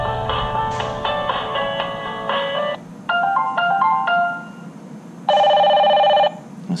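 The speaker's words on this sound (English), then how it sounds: "you can change the sound, the ringtones" A bright electronic ringtone from a Hikvision 2-wire video intercom plays in several repeated melodic bursts, with short pauses between phrases and a steadier tone near the end.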